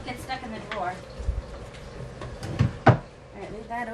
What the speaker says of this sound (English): Book gets stuck in the drawer.